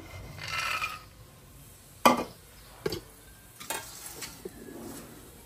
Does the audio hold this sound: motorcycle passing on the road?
no